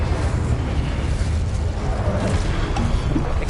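A fiery Incendio spell blast in Hogwarts Legacy, a loud, dense, roaring burst of noise that rumbles steadily throughout without a pause.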